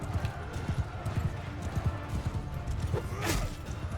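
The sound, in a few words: horse archers' hooves in Mount & Blade II Bannerlord video game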